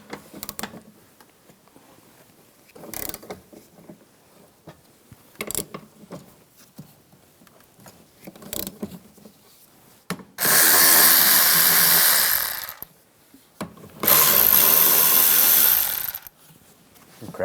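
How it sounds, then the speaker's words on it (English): A power tool spins off the 14mm wiper arm nuts on a 2004-2009 Toyota Prius, two loud sustained whirring bursts of about two seconds each, preceded by quieter scattered clicks and handling noises. "Using a 14mm socket, take this nut off and this nut"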